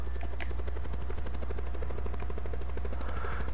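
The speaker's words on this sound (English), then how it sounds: "I got a tactical chopper." Tactical helicopter in Call of Duty: Black Ops 4, a steady close rotor thump and engine drone running continuously without talk.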